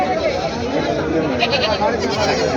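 Goats bleat repeatedly over a busy din of people talking nearby at a crowded goat market in Parbhani, Maharashtra.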